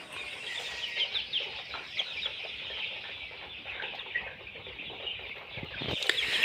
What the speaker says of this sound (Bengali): আমার শেডের মধ্যে কিছু কিছু মুরগি ফুলে বসে থাকে